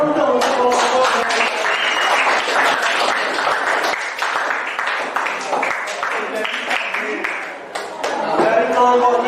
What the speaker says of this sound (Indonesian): tepuk tangan dong untuk kelompoknya